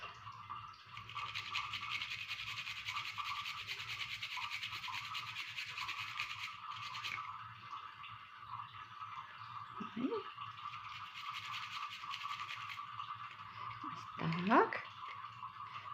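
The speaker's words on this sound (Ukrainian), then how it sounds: "Я натираю прямо в миску, тому що тут буде все змішуватися" Two garlic cloves are rubbed against the small holes of a hand grater straight into a bowl, a steady close scratchy rasp that pauses briefly midway, with someone talking over it.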